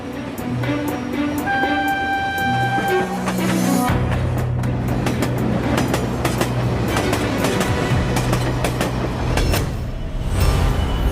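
A heavy 20,000-ton freight train hauled by two 9,600 kW electric locomotives rumbles and clatters steadily along the rails, with a loud mechanical drone and scattered clanks, plus a brief high tonal whine early on.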